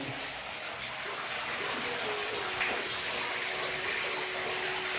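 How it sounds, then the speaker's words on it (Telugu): A small waterfall feature in a washroom in Langkawi, Malaysia, runs with a continuous soft rushing of water, fairly quiet and steady throughout. "ఇక్కడ ఒక వాటర్ ఫాల్స్ మళ్ళీను"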